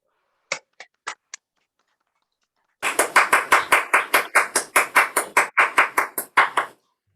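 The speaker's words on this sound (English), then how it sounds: "Let's unmute and give Kwasi a round of applause" A few scattered claps from an online audience, then a short burst of rhythmic group applause for a speaker at a community mental health celebration, the claps close and steady for about four seconds.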